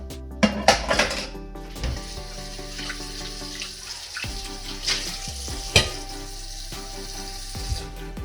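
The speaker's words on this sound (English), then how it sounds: "I'm going to put on a little bit of water to show you guys that it's working." Water splashes onto a hot stovetop drip bowl, bursting into loud sizzling and hissing in several spurts, with clattering metal and a steady crackle settling between bursts.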